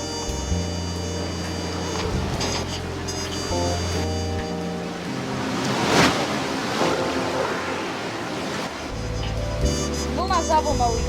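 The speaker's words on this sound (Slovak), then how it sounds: "Vlna za vlnou ide." Ocean waves from a Roblox game event surge and wash in one after another, a broad rushing surf that builds to a peak midway, mixed with game effects and a faint voice.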